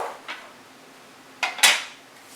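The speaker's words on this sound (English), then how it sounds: "I'm going to slide our next little bowl in" A small bowl scrapes and clinks against a kitchen counter during ratatouille preparation, a few brief close knocks and a short sliding rasp, otherwise quiet.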